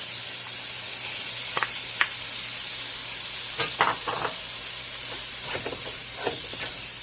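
Chicken pieces sizzle steadily in a hot pan, a constant hissing fry with occasional sharp crackles and stirring scrapes, heard close without any voices.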